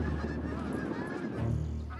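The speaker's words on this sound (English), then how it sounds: "seagulls and Canada geese flock to airports, taking advantage of the peace and quiet." Canada geese honk repeatedly at an airport, with several overlapping calls at a moderate distance against a low steady background rumble.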